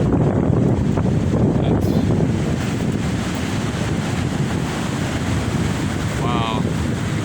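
Strong gusts of a windstorm roar steadily across the microphone as loud, broadband buffeting that never lets up, with a brief spoken word near the start.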